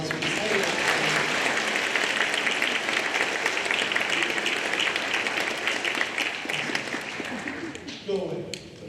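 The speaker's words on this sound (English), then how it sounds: "let's give our seniors one more round of applause for this" A large crowd applauds graduating seniors at a high school senior awards night, the clapping steady and loud for most of its length before tapering off near the end, with a voice faintly audible beneath it.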